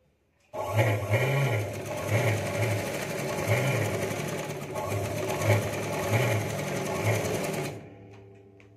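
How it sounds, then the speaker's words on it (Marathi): A sewing machine runs close and loud, topstitching a finishing line along the boat-neck neckline of a blouse front, a continuous whirring chatter with slight pulsing surges that stops abruptly near the end. "आता काय करायचं आहे, आपल्याला गळ्यावर फिनिशिंग टीप टाकत घ्यायची आहे."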